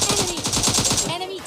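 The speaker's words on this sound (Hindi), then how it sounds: "तब से नीचे से फायरिंग की साउंड आती है" Rapid burst of automatic gunfire in PUBG Lite coming from below, a fast even rhythm of about a dozen shots that stops briefly and then resumes, loud and sharp against the game background.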